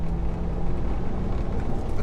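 A tuned 370 bhp BMW 335d diesel drones loudly from inside the cabin as the driver drops a gear, with a steady engine roar throughout.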